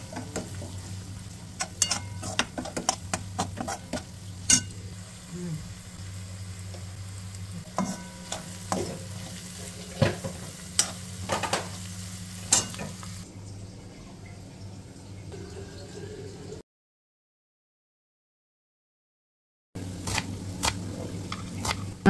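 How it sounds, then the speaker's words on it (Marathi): Chopped onion with turmeric, chilli powder and salt sautéing in a pan of tempering oil, a steady sizzle broken by frequent scraping and clinking of a spoon stirring against the pan, a brief silent gap near the end. "2 ते 3 मिनिटात कांदा परतून तयार होणार आहे"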